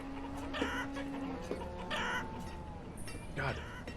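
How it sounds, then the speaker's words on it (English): Flock of chickens in the town-building game Banished, a series of layered clucks and short squawks repeating irregularly at low volume over a soft background bed. "Listen to all that clucking."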